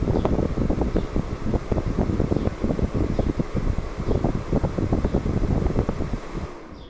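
Pressurized refrigerant gas rushes from the service valve of an R32 air conditioner, a strong continuous hiss with fluttering pulses, close and loud, tapering off at the end.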